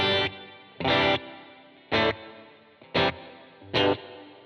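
Five short, distorted electric guitar chords through a subtle plate reverb setting strike at regular intervals, each ringing briefly with a smooth reverb tail between hits.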